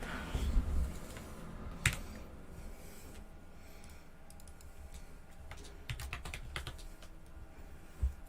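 Computer keyboard typing with scattered clicking keystrokes, a few sharper isolated taps standing out, recorded fairly close with no voices.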